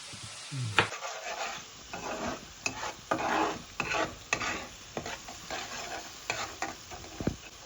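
Masala spices for a pabda fish curry stir-frying in a pan, with steady sizzling broken by repeated scraping strokes of a spatula against the metal, fairly close and with no talk.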